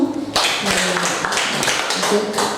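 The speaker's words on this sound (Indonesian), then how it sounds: "Beri aplaus untuk Pak Kasno" A short round of audience clapping at a school teachers' gathering, a few hands patting unevenly in the room and fading out after a couple of seconds.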